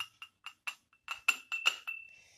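A mixture poured into a small glass beaker during a methyl red test, with a series of sharp, close glass clinks and ringing taps, about ten in irregular rhythm, the last one fading into a faint ring.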